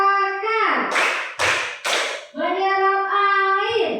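Group hand clapping in a 'tepuk akar' clapping game during a classroom ice-breaker: three sharp, loud claps fall close together between stretches of chanted, sing-song voices.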